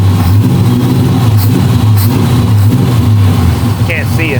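A car engine idles steadily and loudly in hot outdoor weather, its low hum running through the whole stretch with people talking over it and a couple of brief squeaks near the end.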